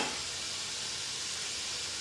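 Ground meat sears in a hot skillet for stuffed peppers, a steady, loud, bright sizzle and crackle of frying fat that holds evenly throughout with no voices.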